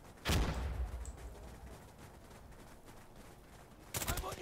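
Gunfire in a tactical shooter video game set in a Cuban insurgency, two loud broadband bursts near the start and end with a low quiet stretch between.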